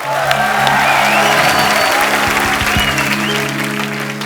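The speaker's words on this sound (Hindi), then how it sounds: "तालियां पहले हो जाए जरा" A comedy show studio audience gives loud, sustained applause with some cheering, dense and even throughout, while low music tones hum underneath.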